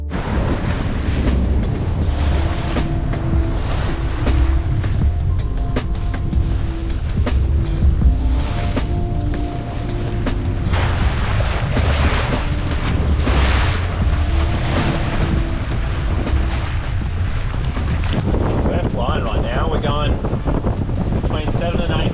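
Steady, loud wind roars across the microphone on a sailboat sailing close-hauled in about 12 to 13 knots of wind at sea, with waves washing against the hull and music faintly in the background throughout.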